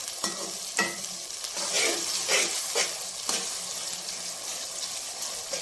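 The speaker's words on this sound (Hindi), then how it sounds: "तो ये देखें इसी तरह हमने इसको भूनते जाना।" Potato, pea and turnip curry sizzles and fries with tomatoes in a pan, with a steady crackling sizzle punctuated by repeated scraping stirs of a spoon against the pan.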